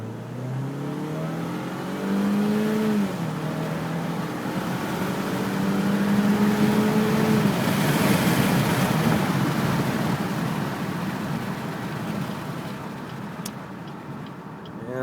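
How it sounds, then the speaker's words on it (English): A 2010 Chevy Malibu LTZ launches at full throttle from a dead stop, its engine note rising steadily through the gears as it accelerates, loud and close, with no talking over it. "This is just matting the gas pedal from a dead stop."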